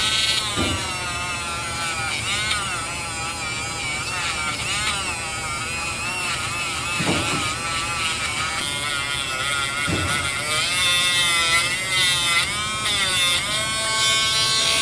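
A rotary tool buffs a stainless steel firearm feed ramp with polish, giving a steady, close, high-pitched motorized whine with shifting tones throughout and brief scraping contacts.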